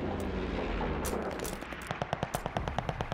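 Gunfire in the Call of Duty Vanguard video game: a loud rumbling blast gives way to a fast, evenly spaced string of sharp automatic shots.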